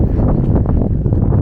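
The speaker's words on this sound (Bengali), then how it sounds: "প্রচণ্ড ঠান্ডা হাওয়া।" Strong, cold wind at Kaksang La, a high mountain pass near 17,800 feet in Ladakh, roaring and buffeting close to the microphone in a continuous loud rush.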